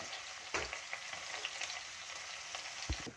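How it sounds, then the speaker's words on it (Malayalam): Chopped ginger and garlic fry in hot oil, giving a soft, steady sizzle with a couple of brief louder spatters or utensil knocks, close by and without speech. "എണ്ണ ചൂടായിട്ടുണ്ട് നമുക്ക് ചെറു ഇഞ്ചി വെളുത്തുള്ളി ഇട്ട് കൊടുക്കാം"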